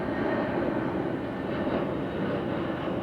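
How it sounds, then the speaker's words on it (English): A jet aircraft passes overhead, its broad, steady roar filling the air loudly and without a break over a shoreline in the early morning. "There's a jet just flying over, so a little bit on the noisy side."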